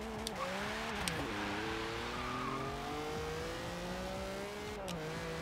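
A classic 1960s Lamborghini engine revs and shifts in the Forza Horizon 3 video game, a sustained loud engine note climbing in pitch with clear gear changes, with no talking.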